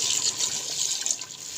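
Water pours from a glass into a beef karahi pot of softened tomatoes, a close, steady hissing splash lasting under two seconds with no talking.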